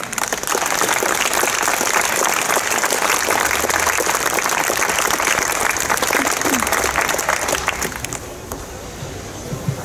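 Sustained applause from an audience welcomes poet Mariusz Jerzy Olbromski onto the stage at the Chojnice Poets' Night in 2017. Dense, steady clapping fills about eight seconds, then thins and fades out near the end.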